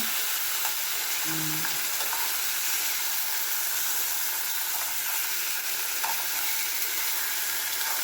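Steady, dense sizzling of a salmon head frying in hot oil with ginger, loud and continuous throughout with a brief low tone early on.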